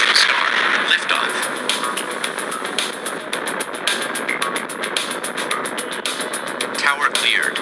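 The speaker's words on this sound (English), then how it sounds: "5, 4, 3, 2, engine start. Liftoff." Rocket engines roar at liftoff in the video game Space Agency, a steady loud broadband rumble with faint rapid crackling, while radio-style voices talk over it.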